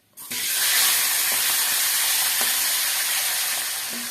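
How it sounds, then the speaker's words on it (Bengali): A katla fish head fries in hot oil in a kadai, a loud continuous sizzle that bursts in sharply and holds steady, with a few faint clicks. "লাউ রান্নার জন্য মাছের মাথা ভেজে নিতে হবে।"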